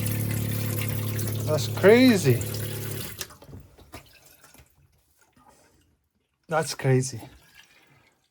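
Water gushes from a tap on a boat's freshly repaired onboard water system, a short burst under an excited voice, then quiet drips before a second voice briefly speaks over it.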